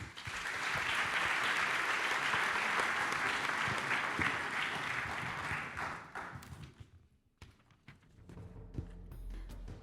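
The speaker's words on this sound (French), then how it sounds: "On les applaudit également." Audience applause at a housing awards ceremony, a dense sustained clapping that holds steady for several seconds before thinning out and fading to a few scattered claps.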